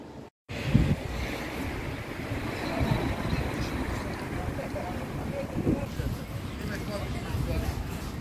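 Desert storm wind in Tunisia blowing hard, a loud continuous rush with gusting buffets against the microphone after a brief cut at the start, with no clear speech.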